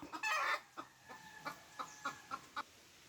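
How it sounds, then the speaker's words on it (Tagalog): Chicken clucking in a quick series of short, sharp calls, starting with a louder burst and then a string of evenly spaced clucks, fairly close. "Ang alingasan nga manok oh. Putak-putak! Putak-putak!"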